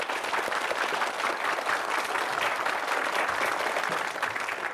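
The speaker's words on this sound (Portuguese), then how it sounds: "Palmas para a Juliana." An audience bursts into steady, dense applause on a talk show set, continuous clapping that holds at an even level throughout.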